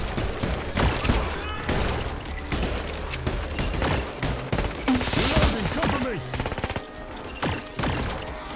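A turret in Red Solstice 2: Survivors keeps up rapid, rattling automatic fire at close range, with bursts and thuds layered throughout, while someone talks over it.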